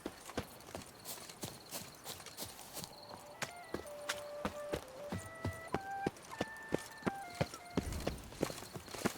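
Horse hooves from The Witcher 3 clip-clop in a steady walking rhythm, close and clear, with a short musical phrase rising over the hoofbeats midway.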